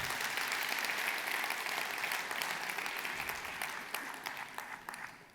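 Warm applause from a seated audience at a French New Year wishes ceremony, a thick steady clatter of clapping that gradually thins into scattered claps.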